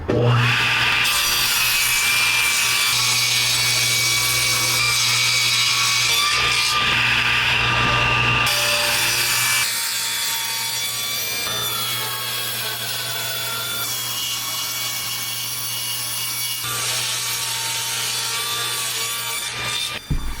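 A thick plank of white bending oak, 2.5 by 10 inches, is ripped into boat frame stock on a power saw, giving a loud, sustained whine and rasp of blade through wood that eases slightly midway.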